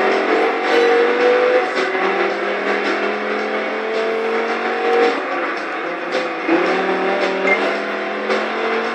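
A Dodge Viper in Project Gotham Racing 4 on a London street circuit revs and accelerates hard, its engine note rising and dropping through gear changes and corners, loud and continuous with no talk.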